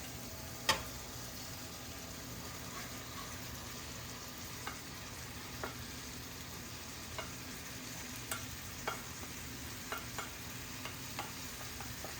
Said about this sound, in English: So now I'm going to add the rice.